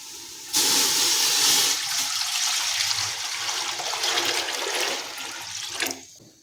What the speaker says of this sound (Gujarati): એની અંદર આપણે અહીંયા બધું જ પાણી લઈ લઈશું